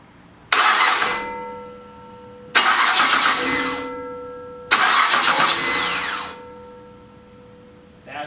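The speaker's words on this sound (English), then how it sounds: "if I'm gonna start the engine, I should probably connect the battery first." A car engine with a cracked flexplate rubbing the torque converter cranks in three separate loud, grinding starter bursts of about one and a half seconds each, separated by short quiet pauses.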